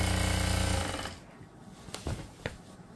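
An electric sewing machine stitches gota trim onto a lehenga in a fast, loud, steady rattle for about one second, then stops, leaving a few faint knocks and handling sounds.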